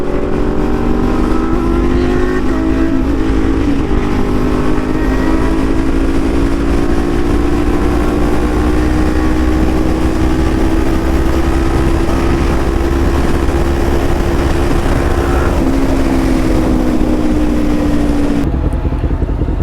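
A Suzuki GSX-R750 motorcycle engine drones loud and steady on a night ride, its pitch holding then slowly rising and easing, close and continuous throughout before cutting off near the end.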